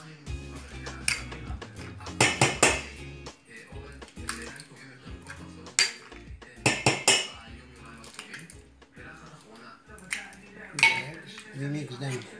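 Spinach and cheese bourekas filling is mixed in a bowl, with a utensil scraping and clinking against the dish in irregular knocks and clatter, a voice talking quietly underneath.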